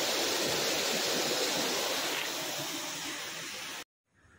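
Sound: waterfall, rushing water

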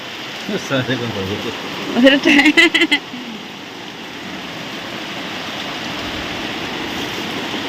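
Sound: heavy rain

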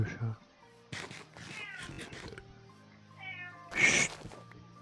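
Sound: cat meowing

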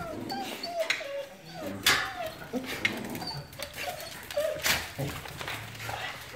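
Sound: dogs whimpering and barking

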